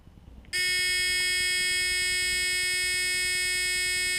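An electronic buzzer wired to a switch in a simple series circuit starts abruptly after half a second and holds a steady, loud, shrill tone without a break to the end.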